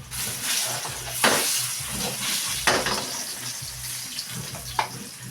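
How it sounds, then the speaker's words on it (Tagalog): Meat sizzles in a pan while being fried for Filipino pochero, a steady frying hiss with a few sharp bursts of stirring and spatters, close by and without talk. "Okay, prito-prito muna tayo."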